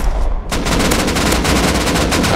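Rapid automatic gunfire in the video game Rust erupts after a brief lull and continues as a dense, loud, fast-repeating stream of shots.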